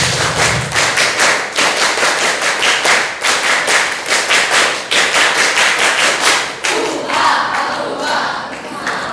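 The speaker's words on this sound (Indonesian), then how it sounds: "Tepuk tunggal, tepuk ganda, tepuk triple, 2 kali tepuk Prantika" A school group claps together in single, double and triple patterns, sharp clustered claps repeating steadily, close and loud, with crowd murmur underneath and the rhythm loosening near the end.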